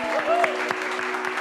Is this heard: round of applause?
yes